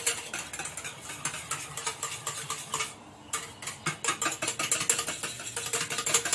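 A milk and egg mixture for egg pudding is whisked into a froth in a bowl, giving a steady run of quick, close scraping and clinking strokes with a short pause partway through.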